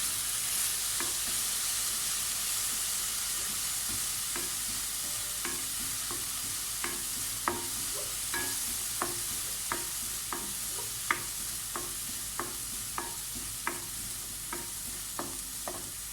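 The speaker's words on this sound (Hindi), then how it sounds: "जब लहसुन की थोड़ी खुशबू आ जाए तो फिर इसमें मैं लाल मिर्च डाल दूँगी।" Garlic frying in oil in a pan for palak chicken, a soft continuous sizzle with a spoon scraping and tapping the pan in irregular strokes, fairly quiet and close.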